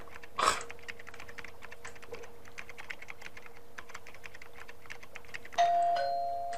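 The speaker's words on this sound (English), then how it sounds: "Oh, stop ringing the doorbell," A doorbell rings in The Sims 1 for PS2/PC, a short bright chime near the start and another ringing tone toward the end, over steady game background noise and faint clicking.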